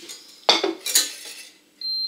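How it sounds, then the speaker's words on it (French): A metal utensil clinks and scrapes against a saucepan in a few sharp bursts while stirring custard cream for crème brûlée, followed by a brief high ringing tone. "Et on mélange jusqu'à ce que ça épaississe."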